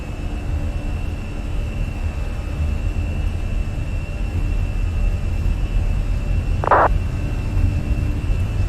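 Fenix A320 airliner engines at takeoff thrust in Microsoft Flight Simulator make a steady, broad roar with a sustained whine, broken by one brief click-like sound.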